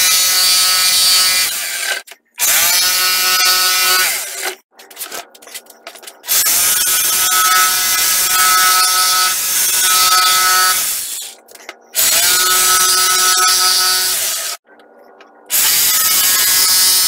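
A jigsaw cuts a star shape out of clamped wood, its motor buzzing in several close, loud bursts of a few seconds each, separated by short silent pauses.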